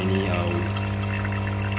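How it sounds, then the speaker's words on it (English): A Lelit Mara X E61 heat-exchanger espresso machine flushes water through its group head, giving a steady, close rushing stream over a low pump hum with no pauses. "So I will usually flush out the water once or twice."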